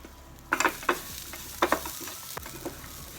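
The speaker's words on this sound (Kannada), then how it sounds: "ಇದನ್ನು ಅಷ್ಟೇ ಸ್ವಲ್ಪ ಕಡಿಮೆ ಫ್ಲೇಮಲ್ಲಿ ಇಟ್ಕೊಂಡು ಫ್ರೈ ಮಾಡಬೇಕು." Grated coconut fries on low flame in a pan, a soft steady sizzle broken by several sharp spatula scrapes and taps close by.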